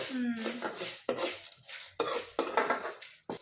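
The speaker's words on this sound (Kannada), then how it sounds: "ನೋಡಿ ಈಗ ಹಿಂಗ್ ಚಟ ಚಟ ಅಂದಂಗೆ ಹುರ್ಕಬೇಕು" Horse gram roasting in a pan is stirred with a metal utensil, giving close scraping strokes every second or so with light crackling and rattling of the seeds.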